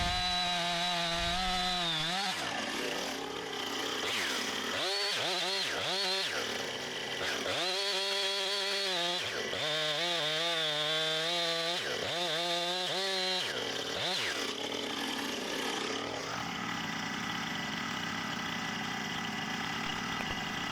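Chainsaw bar buried deep in a spalted maple log while cutting cookies, the engine surging and dipping between bogged cuts and revs, loud and close, with a brief idle near the end.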